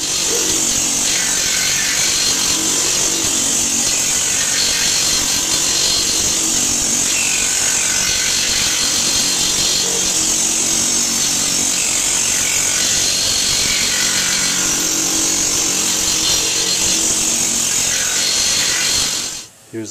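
A planishing hammer smooths a metal tank shell with loud, continuous rapid hammering, a dense buzzing clatter that holds steady throughout before stopping abruptly at the end.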